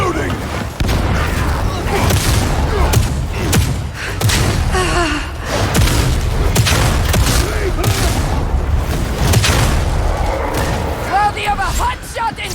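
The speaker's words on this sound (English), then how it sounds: "Beware! The barrel is exploding!" A barrel explodes during a Darktide Zealot mission on Damnation difficulty, giving loud, heavy booms within dense game combat noise, with in-game voices calling out around the blasts.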